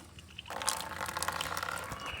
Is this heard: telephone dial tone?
no